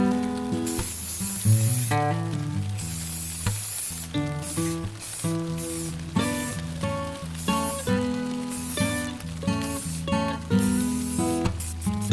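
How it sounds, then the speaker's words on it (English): Ultra matte black primer hisses from a spray can onto a 3D print in short, repeated bursts, heard under steady background music. "Just spray it on there nice and evenly."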